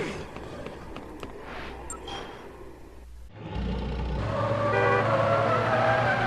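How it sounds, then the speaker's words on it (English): Car engine and road noise from the video game Dead Rising, with a short tonal horn-like toot early on, then a sudden louder roar of the vehicle accelerating that continues to the end. "Sometimes the horn just goes off."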